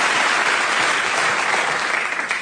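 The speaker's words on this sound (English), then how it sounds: "please give her a massive round of applause to the wonderful Lucy Pinder" Audience gives a massive round of applause for Lucy Pinder, a loud, dense, continuous wash of clapping that holds steady and tapers slightly at the end.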